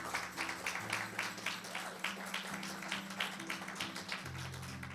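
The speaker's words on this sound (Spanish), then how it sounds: "Dele un fuerte aplauso al Señor" Faint rhythmic clapping from a church congregation praising God, rising and falling in bursts, with sustained organ-like music chords running beneath.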